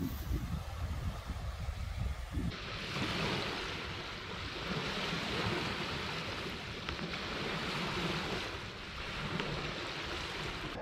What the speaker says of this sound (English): You can see there's a little wind and some waves still